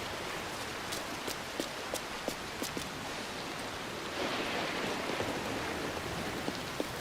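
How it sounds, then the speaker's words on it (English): Steady rain hisses across a tropical outdoor scene in Assassin's Creed Black Flag, with scattered drips and light patter throughout and a brief thicker swell partway through, no voices. "Finally get out of the rain for a bit"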